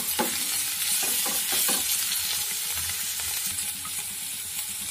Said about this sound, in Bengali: পেঁয়াজগুলো আমি আধ ভাজা করে নেব।